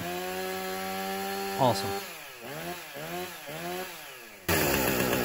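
A Husqvarna 455 Rancher chainsaw with a freshly rebuilt fuel system runs steadily on a test run, then revs up and down several times before a loud burst of throttle, with a brief spoken exclamation over the engine.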